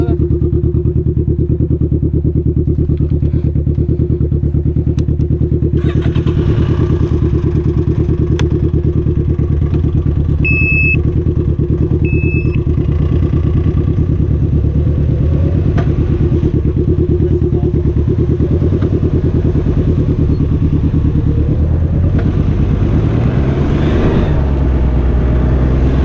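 A Can-Am Ryker three-wheeled motorcycle engine runs loud and close, idling with a steady rumbling drone and then revving and shifting pitch as the trike pulls away, with a couple of faint clicks and thumps along the way.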